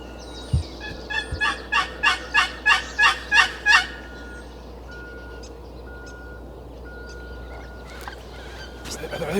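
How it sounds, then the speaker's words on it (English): A Rio turkey gobbler gobbles nearby in the woods, about nine rapid rattling pulses in one loud burst followed by calm outdoor ambience, with no talking. "We got a gobbler just cranking up here on the right."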